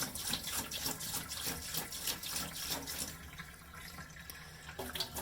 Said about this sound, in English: I'll put roughly, a good third of a gallon in each sink